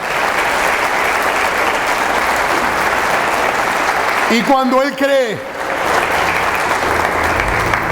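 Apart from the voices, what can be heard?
church congregation applause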